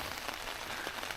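Rain pattering steadily on a surface, a soft, even hiss with scattered drops, quiet and uninterrupted.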